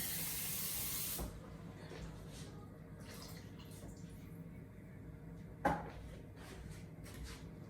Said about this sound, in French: Maintenant, je vais ajouter un petit peu d'eau.